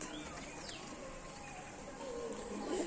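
Chennai-breed pigeons outdoors in bright sun, giving faint, scattered coos and soft calls low in a steady, quiet background hum.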